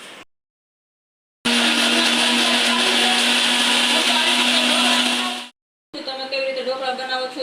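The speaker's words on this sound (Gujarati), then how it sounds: "હવે આને આપણે બધું મસ્ત મિક્સરમાં ક્રશ કરી લઈએ" A kitchen mixer grinder crushes chutney ingredients, including white sesame seeds and garlic, in a loud, steady whirring run of about four seconds. It stops abruptly and then starts a second, rougher burst.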